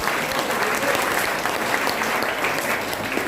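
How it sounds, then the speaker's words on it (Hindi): Audience applause at a Hindi poetry recitation, a dense, steady wash of many hands clapping continuously and fairly loudly throughout, with no voices standing out above it. "अगर अच्छा लगा तो एक बार दोनों हाथ कर तालियों का आशीर्वाद दीजिए"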